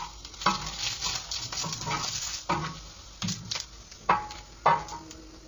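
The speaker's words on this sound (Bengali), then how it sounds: "এখন আমি এখানে লাউয়ের যে খোসাগুলো ছিল সেটাকে দিয়ে অল্প একটু রোস্ট করে নিব" Bottle gourd peels roast in a pan, a soft sizzle broken by repeated scraping stirs, several distinct strokes spaced unevenly, close and fairly quiet.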